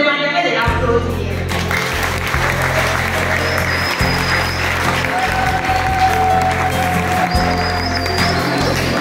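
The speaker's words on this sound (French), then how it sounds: "Je vous demanderai de l'applaudir." Audience at a school ceremony at Lycée Siama applauds the school's top student, steady dense clapping over a loud low thumping music or sound-system beat, with a brief high tone partway through.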